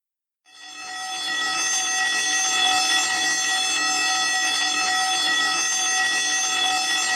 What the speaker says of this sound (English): Oh, I think my wife just set off the fire alarm.